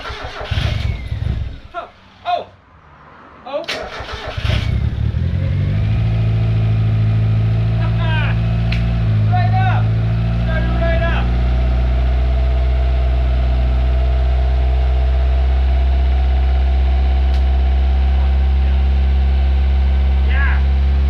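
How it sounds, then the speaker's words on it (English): A turbocharged Mazda Miata cranks with a few quick starter bursts, fires on the second try, then settles into a loud, steady high idle that drones on close by, while someone speaks briefly at the start. "it's started up on the second turn of the key, but it's idling high"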